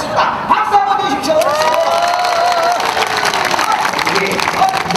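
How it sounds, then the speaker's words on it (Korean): Outdoor crowd at a traditional tightrope-walking performance clapping, cheering and whooping, with children shouting; a loud, lively mass of hands and raised voices, with whistling tones and calls rising above the steady applause. "박수 한번 주십시오!"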